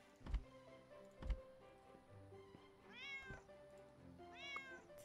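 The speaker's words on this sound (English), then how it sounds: "bit weird to hear the cats" Cats meowing in the pet-care game Pets Hotel, two drawn-out rising meows a second or so apart, preceded by a couple of soft thumps, set against quiet game music.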